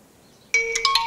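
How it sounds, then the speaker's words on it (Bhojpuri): A mobile phone ringtone suddenly starts after near silence, a bright electronic melody of a few quick repeating tones, loud and close, with no talking. "देखा फिर फोन आवत बा"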